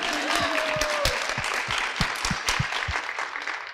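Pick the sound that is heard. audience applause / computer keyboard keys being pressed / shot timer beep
audience applause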